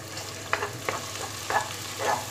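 Red pepper paste is stirred in a hot pan, making a soft, steady sizzle broken by several scraping stirring strokes, quiet and close with no voices.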